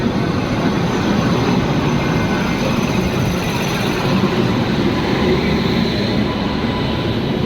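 A train rolls past close by with a loud, steady rumble and clatter that fills the whole stretch without letup, and no voices are heard over it.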